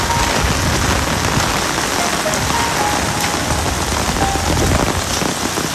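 Loud, dense rain pours down steadily and close by in strong wind, a constant roaring hiss with no pauses and no voices.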